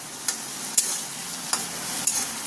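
Spice masala frying in a pan for a lentil dish, a constant sizzle broken by four sharp scrapes and clacks of a spoon as it is stirred.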